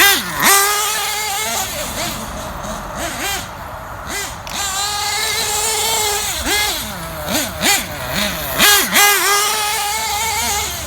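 A Losi 8ight RTR nitro truggy with broken clutch springs screams close by, its small engine rising and falling in pitch through a series of sharp throttle blips and sustained high revs.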